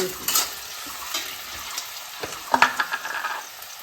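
Onions and chilies fry in a pan, a soft steady sizzle broken by several stirring scrapes, louder and busier toward the end, with no talking.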